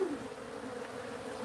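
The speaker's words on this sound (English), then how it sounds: "There's a lot of bees here" A large swarm of bees gathered at a house soffit makes a steady, dense buzzing drone that holds at an even level throughout, close and continuous with no speech.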